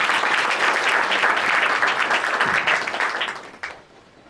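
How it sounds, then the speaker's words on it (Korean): A conference audience at a library data research centre launch applauds to welcome a keynote speaker, a loud, dense clapping that holds steady and then thins out and fades near the end. "큰 박수로 맞아주시기 바랍니다."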